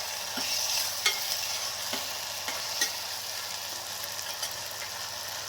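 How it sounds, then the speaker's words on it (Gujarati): Chopped tomatoes get stirred into frying potato curry, a steady oily sizzle with light spoon taps and scrapes against the pan at an irregular pace. "એ ટમેટાને એમાં એડ કરશું અને ફરી પાછું આપણે હલાવશું"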